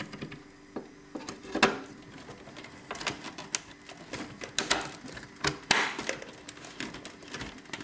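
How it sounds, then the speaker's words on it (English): A RAM module is pressed into a PC motherboard slot, producing a series of sharp plastic clicks and taps, close and crisp, ending as the slot latches shut. "Put the RAM in until it closes."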